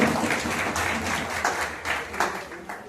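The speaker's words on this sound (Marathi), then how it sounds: "एक जोरदार टाळ्यांचा गजर आपण करावा." An audience at the closing ceremony and prize distribution of a Zadipatti drama festival in Desaiganj applauds, a dense, sustained clapping that swells in waves for the whole stretch.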